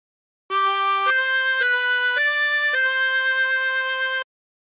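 Harmonica playing a short phrase of the hymn Nearer My God to Thee, five sustained reedy notes moving step by step, solo and clean.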